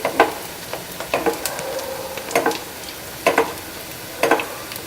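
Sabudana vadas (potato and sago tikkis) frying in ghee in a pan, a steady sizzle broken by several sharper bursts of spluttering as ghee is spooned over, close and without talk.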